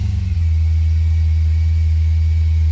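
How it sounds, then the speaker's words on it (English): A manual Holden Monaro CV8 fires up from cold with a brief crank, then settles into a loud, steady, deep-toned idle close by. "Alright, let's give it a cold start."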